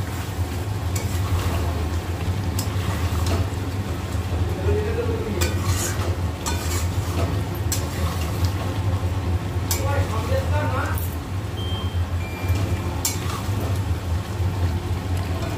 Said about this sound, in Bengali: ভালো করে কষিয়ে নিয়ে আমি জলটা দিয়ে দেবো বন্ধুরা।